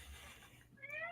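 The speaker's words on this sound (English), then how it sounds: "No, that was a cat." A cat gives a single drawn-out meow that rises in pitch, fairly faint against a low background hum.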